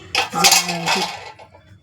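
Metal vessel, copper or brass, handled in a kitchen while preparing a neem and turmeric paste, giving a close, ringing clatter of utensils in short bursts that fades after about a second.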